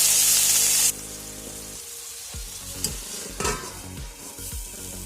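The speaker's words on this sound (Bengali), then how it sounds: "জল দিয়ে এবার দিয়ে দেবো যাতে আলুগুলো সেদ্ধ হয়" Water poured into a pan of potatoes cooking for a curry, a loud hissing burst at the start settling into a steady bubbling sizzle with occasional spoon scrapes, close and without speech.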